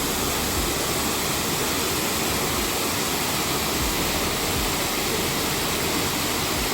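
Mackenzie Falls in the Grampians: a loud, constant rush of falling water, broadband and steady with no breaks, close by and with no voices.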